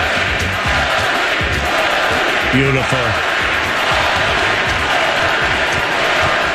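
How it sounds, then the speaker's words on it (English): Hockey arena crowd at PPG Paints Arena chanting for a goaltender, a dense roaring crowd with rhythmic shouts, heard as a replayed recording with a voice speaking briefly over it. "here are the Fleury chants from the PPG Paints Arena crowd"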